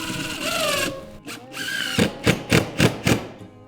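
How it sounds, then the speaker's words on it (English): Power drill driving a screw into the edge of a wooden board, a whining motor run that rises in pitch, then several short spaced bursts as the screw is seated. "Typically screwing on the edge of a piece of wood will split out on you."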